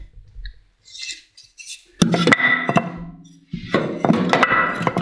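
Split firewood is stacked into a wood stove in an Amish living room, with scattered hollow wooden clunks and knocks, a few sharp clatters, and faint scraping between them, close and fairly quiet.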